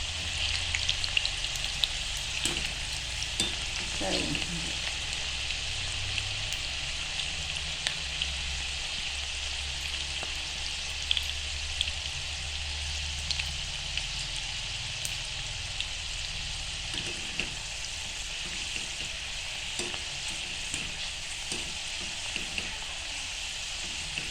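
Chana dal frying in hot oil gives a steady, close, even sizzle that carries on unbroken, with faint stirring clicks and no voices.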